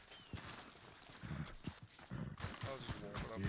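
Quiet clip-clop of a horse's hooves in a video game, with a faint whinny near the end and a person speaking over it.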